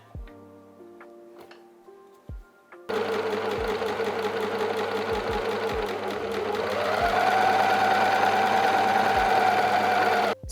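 A sewing machine stitches elastic onto basted bikini swimsuit layers. Faint clicks come first, then the motor runs in a loud, steady, close whirring stitch and rises slightly in pitch and intensity toward the end.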